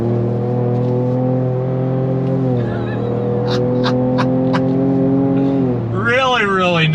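A 2024 Ford Ranger Raptor truck accelerates hard on a winding off-road course, its engine note climbing through strong harmonic gears with shifts, ending in a rising rev; someone talks over the engine throughout.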